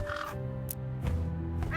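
A crow in True Fear gives a few harsh, close caws, each one rough and croaking, spaced over a couple of seconds against a steady ambient drone.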